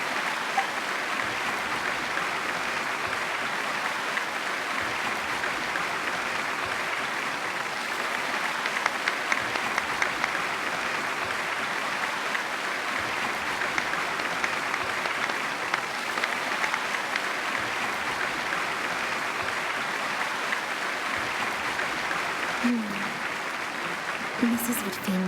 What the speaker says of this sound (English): The applause continue after I take off the mask.